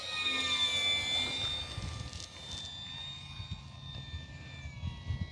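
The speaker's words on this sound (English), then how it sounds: "if you haven't experienced the RV7, folks, it is just a really well-rounded plane" An RV7 light plane drones overhead in a steady engine hum with a whining tone that slowly fades a little, heard outdoors under faint wind.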